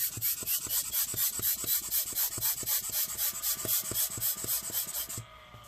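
An ASUS GX531G laptop fan grumbles while air is blown into it: a close, steady rasping churn that pulses about four times a second, then cuts off abruptly just before the end.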